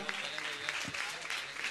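Audience clapping during an honouring ceremony at a Jain religious gathering, a steady wash of applause continuing under a speaking voice.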